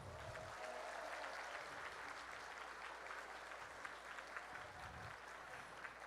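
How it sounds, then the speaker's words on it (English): A room of jigsaw puzzle competitors at a national team event applauds volunteers; steady, moderately faint crowd clapping runs through with a low background rumble. "give them a round of applause"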